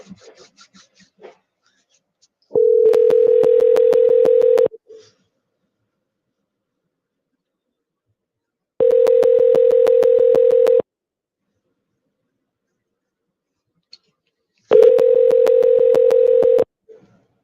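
A telephone tone during a call to a real estate agent, three long steady beeps of about two seconds each with long silent gaps between, loud and clean, plus faint handling noise at the start.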